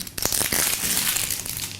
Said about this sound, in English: Rip the seal off this bitch.